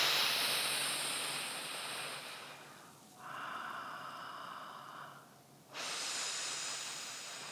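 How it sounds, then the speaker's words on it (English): Standing train breaths in a breathing class: long steady hissing inhales and exhales, close and loud, one dipping into a softer, tonal passage before the full breath resumes. "We're going to do a couple more train breaths standing."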